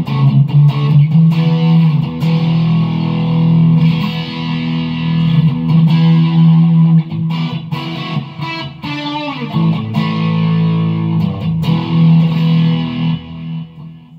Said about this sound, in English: I'll switch over to distortion so you can hear what with a distorted guitar